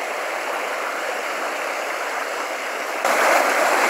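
The Werse river flows with a steady, close rushing wash of water that grows noticeably louder near the end.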